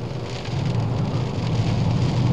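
Heavy rain drumming on a car while driving on a rural road in Scotland, a dense and steady hiss over a low rumble of the car, loud and continuous, with no voices.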